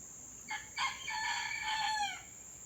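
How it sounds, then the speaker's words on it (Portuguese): A rooster crows once nearby, a clear drawn-out cock-a-doodle-doo of about a second and a half, heard alone against a quiet indoor background. "O galinho hoje tá animado, não para de cantar."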